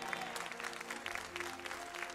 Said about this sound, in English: You gonna clap a little louder than that for my wife.